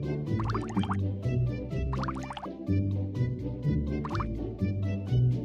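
Cartoon water sound effect as soap is washed off a letter: repeated drips and plops recur at a steady rhythm over a continuous backing track.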